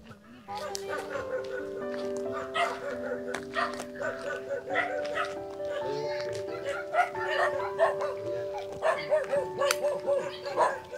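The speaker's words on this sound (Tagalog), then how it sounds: "Ang daming aso." Several dogs bark and yip at once, a busy overlapping chorus close by, with people talking now and then underneath.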